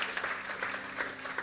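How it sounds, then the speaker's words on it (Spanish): Congregation clapping during a church sermon on Christians and tragedy, a short burst of steady applause at moderate level, with faint hum beneath and no voices over it. "Habrá alguien que aplauda en este momento."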